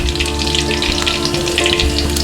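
Whole cumin seeds fry in oil while being stirred, a dense close sizzle with scattered crackling pops and faint scraping, steady throughout with no talk.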